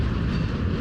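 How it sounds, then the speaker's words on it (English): Heavy low rumble of railroad cars rolling down a hump yard incline along the tracks, steady and fairly close. "Cars from arriving trains are pushed up the hump, then decoupled, rolled down the incline"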